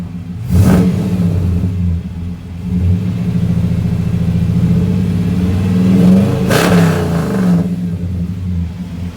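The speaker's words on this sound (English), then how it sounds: "give this thing a little bit of a rev up" The engine of a 1995 Chevrolet Impala SS idles with a low rumble and is revved twice, one short burst near the start and another later, each rising sharply before falling back to idle.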